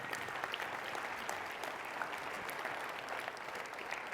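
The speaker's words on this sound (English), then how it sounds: "give Ryan Chenoweth a freaking round of applause" An audience at a business talk applauds Ryan Chenoweth, producing a dense, continuous wash of clapping from a crowd, steady and moderately distant with no break across the whole stretch.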